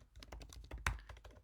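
Quick, close clatter of keys typed on a computer keyboard, a dense run of taps with one sharper keystroke partway through.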